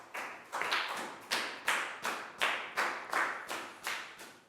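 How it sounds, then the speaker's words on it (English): A Year 4 class claps in unison for a classmate during a health lesson, about a dozen evenly spaced rhythmic claps at a steady beat, fairly quiet and with no talk over them. "a big round of applause for Net"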